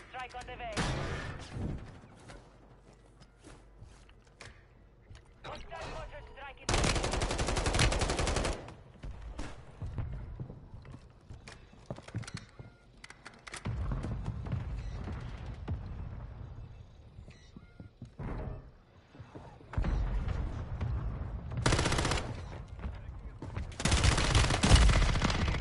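Video game mortar strike and gunfire come as bursts of heavy, loud blasts and rattling shots that alternate with quieter stretches, while voices talk over the action.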